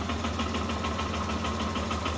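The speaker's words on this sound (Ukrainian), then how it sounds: "Пробуємо заводити. Бачите? На кнопочку легенько завівся." A Lifan KPT 200 motorcycle engine idles steadily in a garage just after a push-button start, a low, even, fairly quiet putter with a faint rhythmic pulse and no talk.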